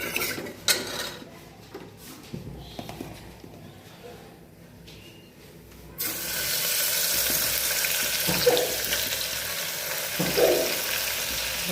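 Cumin and flour are frying in hot ghee for salted rice, setting off a loud, sudden sizzle that starts partway through and keeps going as a steady hiss, with clinks of pots and utensils before it and some voices.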